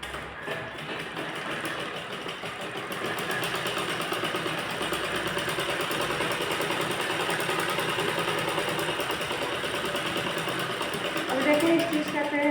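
Sewing machine stitching a bird design blouse runs in a fast, continuous whir close by, with a person talking over it.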